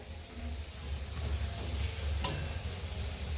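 Satpuri flatbreads deep-fry in oil in a kadai, giving a soft, continuous sizzle with a low bubbling hum and a few faint ticks, steady and fairly quiet with no talking.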